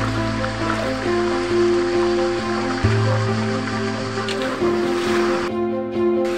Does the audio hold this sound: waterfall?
yes